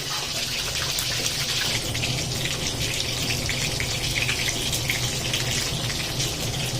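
Water poured steadily into a cooking pot in a home kitchen, a continuous gushing splash that stays even and fairly loud throughout.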